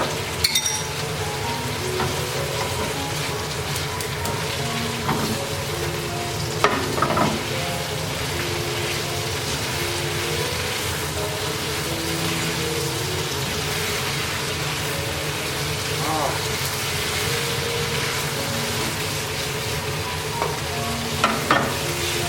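Choy sum sautéing in a wok with pork belly and chili pepper, a dense continuous sizzle and hiss running unbroken for over twenty seconds, with occasional scraping stirs and no voices.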